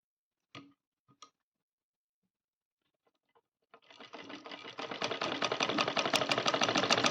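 A sewing machine stitches a Rajputi poshak kachali, a traditional blouse. After a few faint clicks and a pause, it starts up and speeds into a fast, even, close-up whirring rattle.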